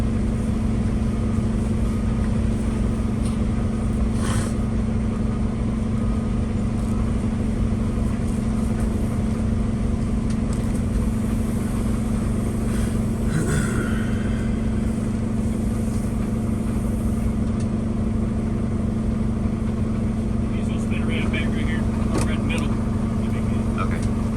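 A truck's engine runs loud and steady, idling and revving gently as it pulls a trailer through a tight turn-around and jackknifes it, with people talking over it throughout.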